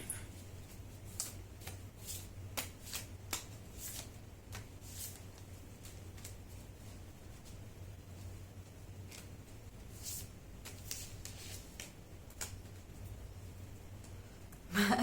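Tarot cards shuffled by hand, a quiet run of crisp riffling snaps and flicks in irregular clusters over a faint low hum, close and soft without speech.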